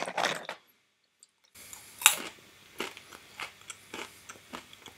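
Close, crisp crunching of Kirkland Signature peanut butter pretzels: a couple of bites, a short pause, then a sharp loud bite followed by rhythmic chewing crunches fading slightly.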